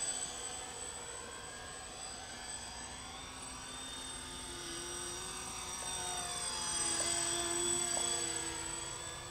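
A scale RC model of the XC-142 VTOL tiltwing aircraft flies overhead with a thin, high electric whine and propeller drone, faint and steady, swelling slightly as it climbs.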